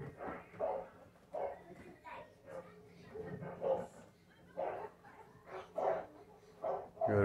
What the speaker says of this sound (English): Dog's getting rowdy outside.